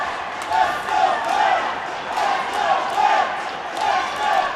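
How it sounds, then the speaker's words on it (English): Hockey fans of the Penguins in an arena chanting "let's go Pens" in a rhythmic repeated pattern, a loud crowd chant rising and falling several times. "You can see the fans calling there. Cheering, let's go Pens."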